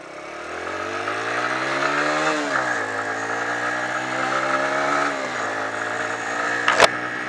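A repaired motorcycle engine with a newly replaced chain runs close by, holding a steady mid-pitched idle with small rises and dips in revs and a sharp click near the end.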